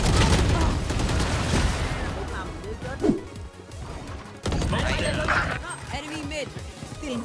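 Bursts of rapid gunfire and crashes from Valorant blare constantly, with people talking excitedly over the shooting.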